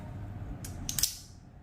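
Spring-loaded scissors on a pocket multi-tool snipping, two or three quick crisp metallic clicks close up over a faint low background hum, no speech.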